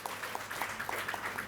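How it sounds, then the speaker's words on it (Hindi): Audience applause at an award ceremony honoring Covid-era workers on International Girl Child Day, a short burst of brisk, fairly close clapping from a crowd. "अब बजेंगी तालियां जोरदार, झूम कर तालियां"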